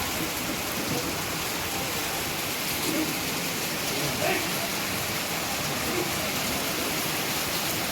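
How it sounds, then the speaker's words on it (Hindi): Very heavy rain pours down steadily on the Char Dham Yatra route, a dense, constant hiss and roar at moderate level with no break, and no voices heard. "अभी फ़िलहाल में भाई बहुत तेज़ बारिश हो रही है"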